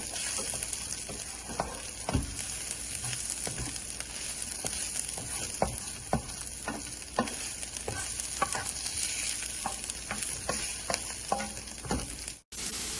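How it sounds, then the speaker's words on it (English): Garlic and onions sizzle in a pan for chicken curry while a utensil stirs them, giving a steady fry broken by regular scraping and clacking strokes, close and without talk. "chop up some garlic and then put it into the pan. Just mix it with the onions."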